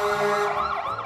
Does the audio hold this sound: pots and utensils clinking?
no